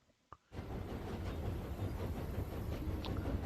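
A train rolls into a station in the Tiny Rails video game, a steady low rumble and rattle that starts abruptly after a brief click and continues evenly at moderate loudness.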